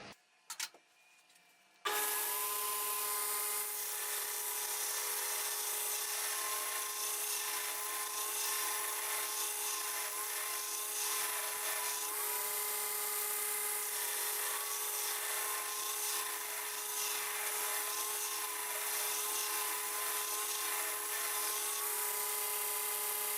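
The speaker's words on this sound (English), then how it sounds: "let's go ahead and grind some more" A grinder working knife bevels in a knife-making shop, a steady continuous whine with a belt hum running for about twenty seconds after a brief quiet start, no talking.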